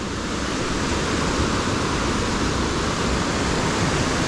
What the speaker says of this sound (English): Roaring water.